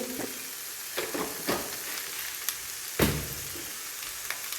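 Hilsa fish head and greens sizzle softly as they are stir-fried in a pan, with a quiet frying hiss punctuated by a few distinct spatula knocks and scrapes, one louder clunk midway.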